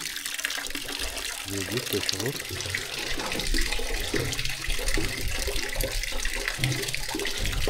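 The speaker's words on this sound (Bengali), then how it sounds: "সকালবেলা গিজার থেকে গরম জল নিচ্ছি" Hot water runs steadily from a shared geyser tap in a Sherpa homestay on the Sandakphu trek, a continuous splashing stream close by with faint voices underneath.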